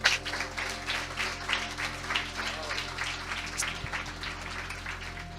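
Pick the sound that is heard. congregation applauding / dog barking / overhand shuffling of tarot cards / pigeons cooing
congregation applauding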